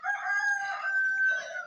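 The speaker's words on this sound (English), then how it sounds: "my rooster" A rooster crows once, loud and close, a single drawn-out call sustained for under two seconds with no other sounds around it.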